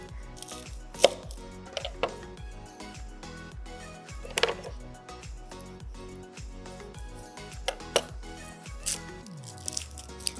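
A knife chops an onion on a cutting board in sharp, close, rhythmic strokes, with some heavier cuts standing out, alone with no talk.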